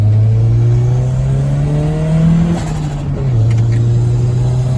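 Truck exhaust revving through a cheap $25 Chinese resonator and a big echo-chamber muffler, a loud, steady low drone that swells, dips briefly, then settles back into a sustained rumble close by.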